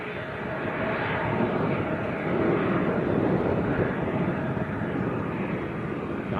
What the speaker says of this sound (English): Jet 2 taxiing out as well, a Ryanair has pushed.